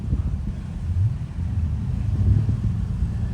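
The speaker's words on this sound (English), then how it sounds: "We have a silver Enzo rolling in too." A silver Ferrari Enzo rolls in at a Car Week Ferrari display, heard as a steady low rumble with wind buffeting the microphone and no voices.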